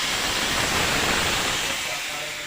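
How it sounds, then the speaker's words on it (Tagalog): Water poured into a hot pan of dinuguan on the stove sets off a loud, steady broadband sizzle and hiss that fills the short moment and tapers slightly toward the end. "Lagyan naman natin ngayon ng tubig."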